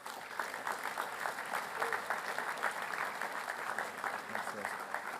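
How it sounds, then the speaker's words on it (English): Applause at a school assembly comes as a steady, fairly faint wash of many clapping hands from a large crowd, with faint voices audible beneath it. "Please give these boys a round of applause."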